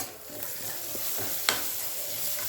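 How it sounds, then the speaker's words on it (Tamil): Plantain podimas being sautéed and stirred in a pan, a steady soft sizzle with scraping stir strokes and one sharp clink near the middle, close and alone. "இப்போது நம்ம வதக்கிறோம். வதங்கிடுதான்னு பார்க்கலாம்."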